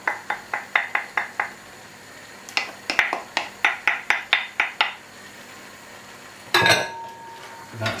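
A spoon knocks repeatedly against a tin as baked beans and tinned tomatoes are scraped into a pot of mince, in two quick bursts of rhythmic metallic taps. A louder clatter and a wet plop follow near the end.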